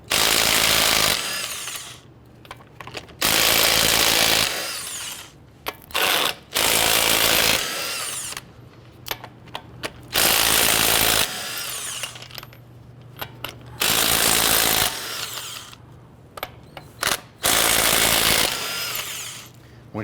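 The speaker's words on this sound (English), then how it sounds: "Using a 22mm socket, go ahead and loosen and remove all of your lug nuts." Lug nuts on a 2007-2014 Cadillac Escalade are zipped off with a power tool and 22mm socket: loud, sustained whirring bursts separated by brief pauses and small metallic clinks.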